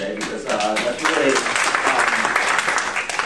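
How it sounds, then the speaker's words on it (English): Applause breaks out from a conference audience honoring good questions, building from scattered claps into a dense, steady ovation, with a voice talking over the start. "I just want to take a moment, maybe for a round of applause for the good questions that have come today"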